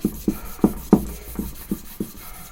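A compound crayon is rubbed back and forth on a hanging leather strop, making about seven soft rhythmic scraping strokes close by, evenly spaced and fading slightly.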